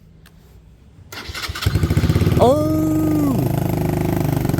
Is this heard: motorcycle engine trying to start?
yes